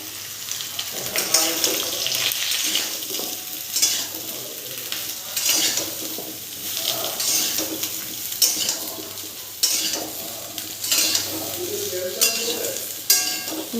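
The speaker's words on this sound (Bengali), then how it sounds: "নাড়তে থাকবো।" Green raw mangoes stirred and frying in a pan for a pickle, giving a steady sizzle with scraping stirring strokes throughout, fairly loud and close with no talk.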